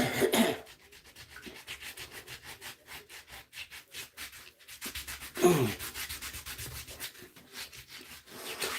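Repeated rubbing strokes scrub over lucky toes, a dry rhythmic scratchy swishing alone, rising and falling in loudness with brief pauses between bursts.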